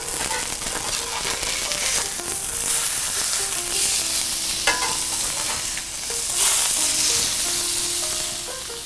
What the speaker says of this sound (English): I'm ready to flip my salmon.